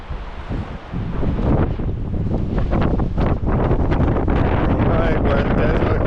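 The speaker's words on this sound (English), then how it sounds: "As you can probably hear, super windy right now." Strong wind gusts at a mountain lake while hiking, roaring and buffeting the microphone loudly and continuously, with waves and rustling faintly underneath.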